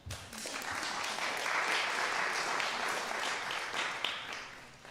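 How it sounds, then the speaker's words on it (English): Concert audience at a chamber music festival breaks into sustained applause, a broad, fairly distant wash of many hands that swells and holds, with a few louder claps near the end. "Give him a big round of applause."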